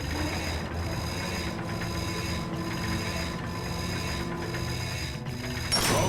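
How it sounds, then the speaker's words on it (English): A bolt crank spins in the Ratchet & Clank game, giving a steady whirring mechanical ratchet with a repeating clicking cycle roughly once a second, loud and continuous, with a brief brighter chime near the end. "Get on that bolt crank, come on! Come on, give it a spin."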